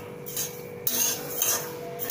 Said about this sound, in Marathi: कढई गरम करून त्यात आपण आता हे जवस भाजून घेणार आहोत.